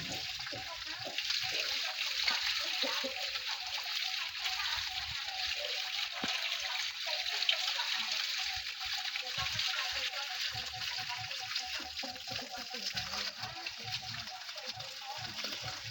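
Crops behind a house are watered, giving a continuous splashing, gushing stream of water that runs steadily throughout at moderate distance, with faint voices and small bumps now and then.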